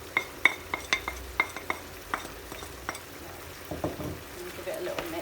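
Spoon stirring spices, dry mint and chili powder into chicken and rice in a pan: a run of sharp, close taps and scrapes against the pan at an irregular rhythm, then softer stirring with faint sizzling.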